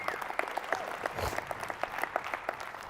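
Sparse clapping from a few people in a keynote audience at a life insurance agent event, quiet and uneven, with individual hand claps standing out rather than a full ovation.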